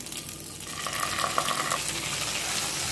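Ginger and cumin paste frying in oil in a pan while being stirred, a steady close sizzle with scraping stir strokes and no talking.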